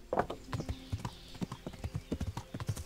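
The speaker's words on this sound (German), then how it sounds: "Okay, jetzt falle ich nicht vom Pferd und reite durch das zu kleine Tor." Hooves clip-clop in a fast, steady rhythm as a horse gallops in the medieval video game Kingdom Come: Deliverance, passing through a narrow gate; the footfalls are close and clear with no talk over them.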